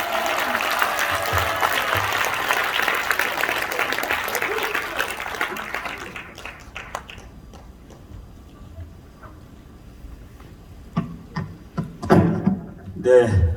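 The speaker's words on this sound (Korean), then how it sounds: "큰 박수로 청해 듣겠습니다" Audience applause at a forum welcoming a speaker, a dense clatter of clapping that fades after several seconds into quiet room tone, followed by brief handling sounds.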